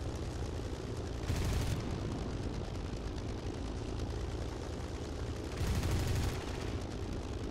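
Aircraft cannons in a flight simulator combat game fire two short bursts over a constant loud engine drone, the second burst slightly longer than the first.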